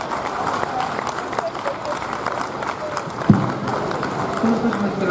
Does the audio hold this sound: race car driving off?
no